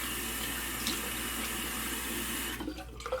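A tap runs steadily into a sink to rinse shaving lather during a straight-razor shave, a continuous close hiss that stops near the end with a few drips and handling sounds; no speech.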